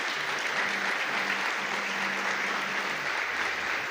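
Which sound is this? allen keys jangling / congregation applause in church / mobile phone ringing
congregation applause in church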